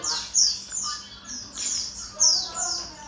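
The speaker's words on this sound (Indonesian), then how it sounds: "Tuh kan guys, berisik. Kalau di luar tuh banyak burung. Berisik banget." Several birds chirp and squawk in repeated sharp, high bursts close by, overlapping in a noisy, busy chorus.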